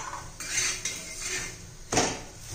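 A metal pan lid lifted off a pan of besan chilla, giving a few close, bright clanks and metallic scrapes that rise and fade over a couple of seconds, with no voices.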